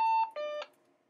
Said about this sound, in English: Please ignore that beep.